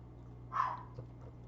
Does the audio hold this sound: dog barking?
yes